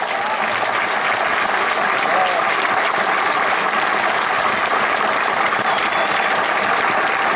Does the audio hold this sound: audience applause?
yes